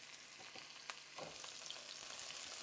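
Green onions fry in heated oil, giving a faint, quiet sizzle with a few light ticks and a soft stir partway through. No voices are heard.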